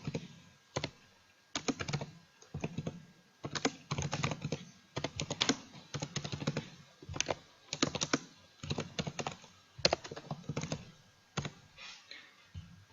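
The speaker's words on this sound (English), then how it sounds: "Now let's type famous Cicero's quote" Typing on a computer keyboard, close and crisp clusters of key clicks in irregular bursts separated by short pauses, with no voices.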